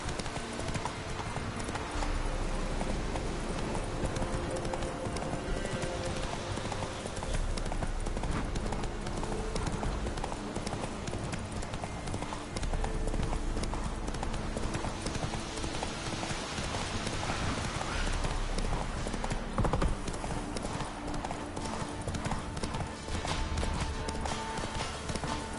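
The horse Roach in The Witcher 3 trots with a steady, continuous clip-clop of hooves, close and even in rhythm throughout, with no talk over it.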